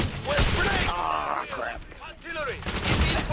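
Artillery strikes and gunfire in Call of Duty: World at War team deathmatch on the Dome map, a loud burst of rapid shots and booms that eases off and then surges again, with voices shouting over the barrage.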